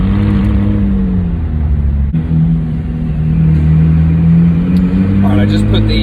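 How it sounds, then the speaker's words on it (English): A McLaren 600LT Spider's engine and exhaust give a loud, close, deep droning rumble that holds steady and then rises slightly in pitch under acceleration, with a brief break partway through and faint higher sounds near the end. "The McLaren, this one in particular, does an excellent job with the exhaust note."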